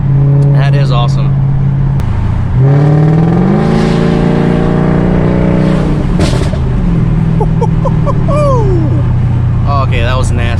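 A Mercedes CLK500 V8 breathing through DynoMax Race Bullet mufflers revs loudly from a steady idle, the pitch climbing and falling in repeated throttle blips, with voices talking over the engine noise.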